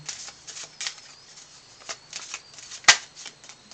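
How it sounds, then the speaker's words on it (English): A deck of cards is shuffled for the Lord of the Rings: Fate of the Fellowship board game, giving quick papery riffles and flicks in irregular bursts with one sharp snap near the end, close and fairly quiet. "next we're going to go ahead and shuffle up the deck"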